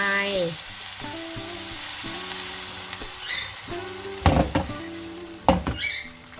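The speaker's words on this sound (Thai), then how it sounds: "ผัดทิ้งไว้ประมาณ 20 นาทีค่ะ" Artichoke risotto rice stir-fries in a pan with a steady crackling sizzle, broken by a few louder clattering stirs, while a voice speaks briefly over the cooking.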